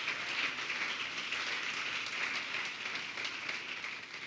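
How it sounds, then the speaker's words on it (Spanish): A church congregation at a Sunday service claps together in steady, sustained applause that fills the whole stretch at a fairly low, even level, with no voices standing out. "pueden dar un aplauso a eso"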